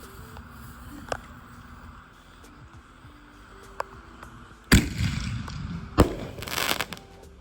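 Two loud 1.25-inch firework canister shells boom out one after another, each followed by crackling, after several seconds of quiet outdoor background with faint clicks.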